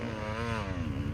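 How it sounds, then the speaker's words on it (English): Two-stroke motocross motorcycle engines buzzing steadily at a raceway, a continuous droning note that rises and falls slightly in pitch, fairly close and loud with no voices. "Listening to the sound of two strokes."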